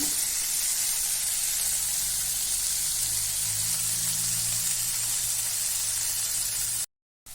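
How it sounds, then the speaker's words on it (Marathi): Tomatoes cook in a pan for masala bhindi, giving a continuous, even sizzling hiss with no talking, cutting out abruptly near the end. "टमाटरला जरा वेळ शिजू देऊया"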